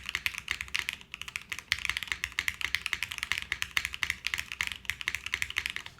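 Fast typing on a Fukuro mechanical keyboard fitted with Yukihana switches and ABS keycaps, a dense, steady run of close, crisp clacks and taps.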